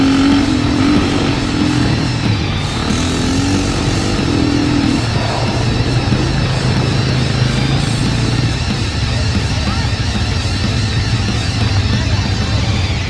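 An ATV motorbike rides on a Riviera Maya tour near Cancún, its engine droning loudly and steadily throughout with rough, fluctuating revs and wind buffeting, while voices talk faintly underneath.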